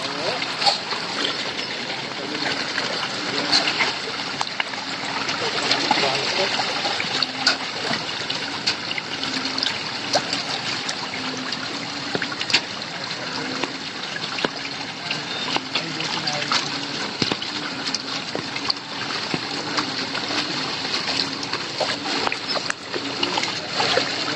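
Floodwater rushes without pause after a mild landslide in a sandy area of barangay Bayan-Bayanan, Bataan, a continuous broad wash with scattered small splashes and trickles, close and moderately loud throughout.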